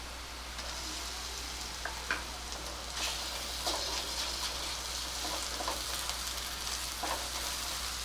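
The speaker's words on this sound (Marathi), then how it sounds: "आता या स्टेजला मी इथे घालते एक चमचा आलं लसूण मिरचीची पेस्ट" Ginger, garlic and chili paste frying with browned onion in a pan for a spicy soya chunk curry, giving a steady close sizzle with faint scattered ticks and stirring scrapes.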